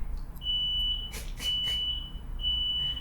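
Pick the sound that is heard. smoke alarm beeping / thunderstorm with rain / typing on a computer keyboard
smoke alarm beeping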